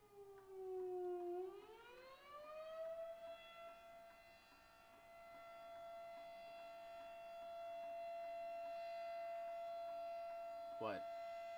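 A siren in the Roblox game Bendy and the Ink Souls wails upward, then holds a long, steady, loud tone with no talk over it. A short click comes near the end.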